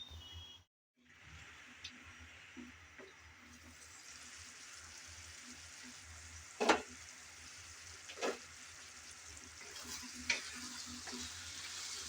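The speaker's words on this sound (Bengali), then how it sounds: "আমি আলু ভালোভাবে কষিয়ে আবারও ঢাকনা দিয়ে কিছুক্ষণ কষিয়ে নিলাম" Potatoes cook in a covered pan with a low, faint, continuous sizzle, and a few sharp clicks and knocks of the lid or utensil are spaced through it.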